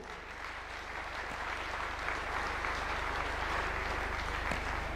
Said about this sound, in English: A round of applause for the report.